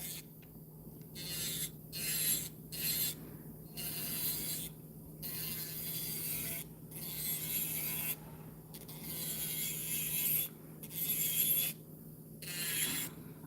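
An electric nail drill spinning at 9,000 RPM files acrylic nails in repeated short grinding bursts with brief pauses between them, close but fairly quiet.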